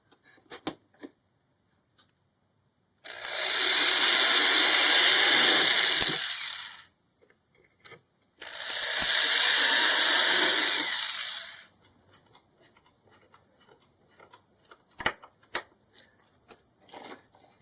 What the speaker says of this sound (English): I'll first drill into the plywood.